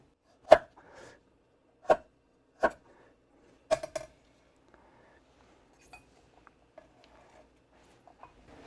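Fresh ginger sliced with a knife on a cutting board: four or five sharp, spaced chops, then quieter faint taps and small clinks, close and without talking.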